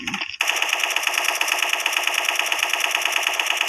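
Machine gun fire in a video game, a long unbroken burst of rapid, evenly spaced shots starting after a brief moment, loud and close, with no talk over it.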